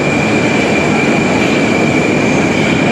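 A metro train in a Tashkent subway station gives a loud, continuous rumbling roar with a steady high whine, close and unbroken throughout.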